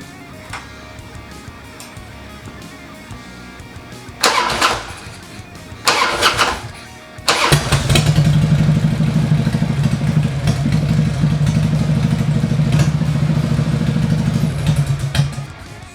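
A Harley-Davidson Dyna Low Rider with a freshly refitted carburetor cranks in two short bursts, then catches on the third and settles into a loud, throbbing idle that runs on to the end.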